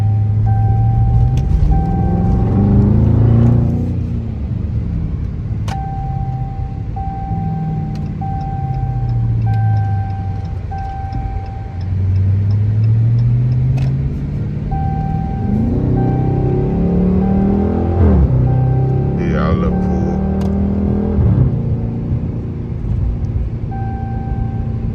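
A Dodge Charger R/T with a straight-pipe exhaust drives along, its engine a loud, deep, steady rumble that swells and eases with shifting revs, plus a faint repeating chime.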